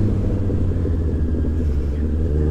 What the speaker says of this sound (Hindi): ये वाला अलग टेक्निक है डाउनशिफ्ट का इसमें मैं क्लच थोड़ा सा यूज़ कर रहा हूँ